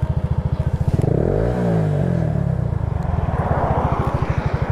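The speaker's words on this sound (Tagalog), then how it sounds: "Ayaw mabante ng motor ko." A Yamaha Mio Sporty scooter engine revs hard while stalled and going nowhere, a loud, close, buzzing putter that climbs in pitch, wavers, then settles into a rapid steady chug.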